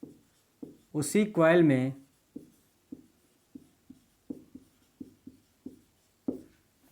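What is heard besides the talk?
writing on a board while explaining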